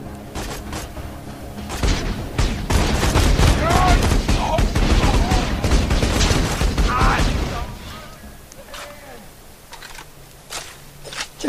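Sustained Borderlands 2 gunfire fills the middle of the clip with dense rapid shots and impacts, then tapers to scattered sounds near the end.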